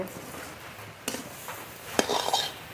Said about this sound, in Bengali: এইভাবে নেড়ে নেড়ে খুব ভালো করে ভেজে নেব।